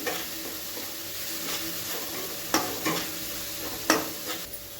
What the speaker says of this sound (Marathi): तेलामध्ये चांगलं फ्राय करून घेऊया